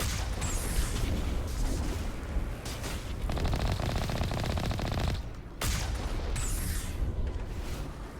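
Sustained automatic weapon fire from a firefight in Mass Effect Legendary Edition, loud and close, running almost without pause apart from a short break near the middle, with dense rattling bursts and booming impacts.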